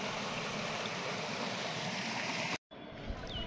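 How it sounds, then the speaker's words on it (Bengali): Clear water flows at Debotakhum, a steady broadband rush of the stream heard close, broken by a brief cut before the flow resumes a little softer. "দেবতাখুমের পানির শব্দ"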